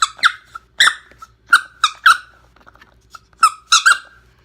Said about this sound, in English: amazing squeaker ball with dual squeaker technology